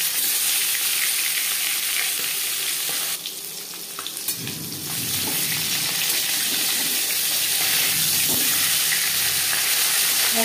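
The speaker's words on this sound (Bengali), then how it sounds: "পরিমাণ মতো সরষের তেল গরম করে নিয়েছি। দিয়ে দেব মাছের মাথা" Fish head and fish pieces sizzle loudly in hot mustard oil, a dense, continuous crackle that briefly drops and changes as the pieces settle, then stays strong, with no talking.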